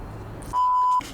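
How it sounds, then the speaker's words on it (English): A REM pod paranormal detector goes into alarm with one sustained electronic beep, a single steady, loud tone lasting about half a second against quiet background hiss. "a REM pod that we have placed in the next section goes into alarm"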